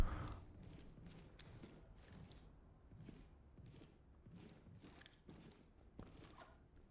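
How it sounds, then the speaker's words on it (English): Heavy footsteps stomping up stairs in the tactical shooter game Ready or Not: a steady series of dull thuds at roughly even intervals, muffled and somewhat distant, with no one talking. "Sounds like he's coming up the stairs. Yeah, I hear somebody stomping."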